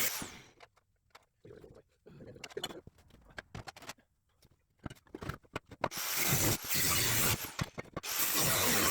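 Welding a steel piece onto a steel oil pan fitting: bursts of crackling, sputtering arc noise with short pauses early on, then a continuous loud hissing crackle for the last few seconds, close up.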